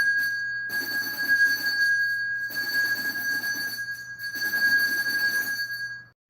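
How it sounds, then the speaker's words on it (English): A bell is rung during a spiritual energy reading, a sustained bright ringing tone that repeats in several long bursts with short silent gaps, fairly close and loud. "so let's ring this bell."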